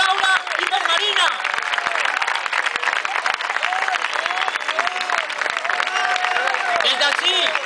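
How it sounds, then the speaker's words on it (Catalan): Crowd at a street rally in Alicante for Catalan political prisoners claps loudly and continuously, with shouts and cheers rising over the applause throughout. "Us demane un fort aplaudiment pel grup de presos polítics catalans"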